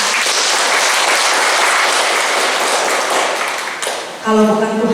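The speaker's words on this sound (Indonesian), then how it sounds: "Tepuk tangan dulu buat Tuhan." A church congregation applauding, dense sustained clapping that fills the room for about four seconds before fading out, followed by a voice speaking over amplified sound.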